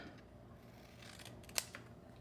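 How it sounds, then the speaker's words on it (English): Scissors trim paper while making a floral octagon gift box, giving a faint papery rustle and then one sharp, close snip with a smaller click just after. "Then I'm just gonna come in with my scissors and trim."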